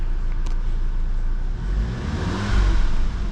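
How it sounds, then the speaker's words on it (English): A Volkswagen Golf Mk7 R engine hums at idle, then rises into a short rev toward the end, steady and fairly close, with no talking. "So get the car started, give the car a rev,"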